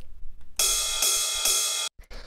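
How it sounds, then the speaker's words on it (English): A ride cymbal in a lo-fi rave techno track plays alone with a few bright, sustained hits that ring with strong high-end shimmer, then cuts off abruptly. "So just a standard sort of ride cymbal, you know, just playing in there."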